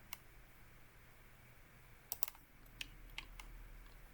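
Faint, sparse keystrokes on a computer keyboard, a handful of light clicks clustered midway through in an otherwise quiet room, with no talking.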